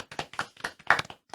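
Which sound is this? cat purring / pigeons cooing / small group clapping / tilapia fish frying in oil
small group clapping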